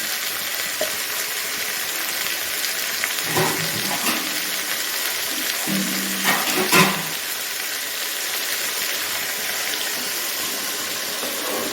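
Water hisses and sizzles as it is poured into a hot pan of vegetables for a mixed-vegetable curry, a steady frying crackle with a couple of louder bursts partway through.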